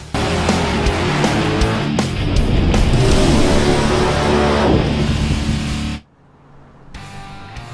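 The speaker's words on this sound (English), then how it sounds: "All right, so the Mustang we're driving" A Ford Mustang with an RST twin disc clutch driving, its engine a loud, steady roar from inside the car that cuts off abruptly near the end, leaving quieter road noise.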